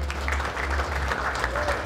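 A hip-hop event audience claps and cheers for a music producer, a short burst of dense applause at moderate distance with some crowd noise underneath.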